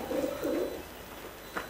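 Pigeons kept for kabootar bazi pigeon flying in Punjab coo twice in quick succession, soft and close, then fade into quiet background hiss with a faint trailing note.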